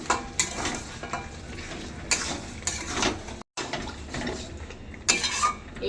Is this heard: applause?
no